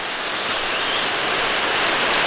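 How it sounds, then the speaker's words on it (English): Steady rain drums on a tin shed roof, a dense, even hiss of drops close by that holds unbroken throughout with no voices. "It's also started to rain. And we've got a tin. We've got a tin shed."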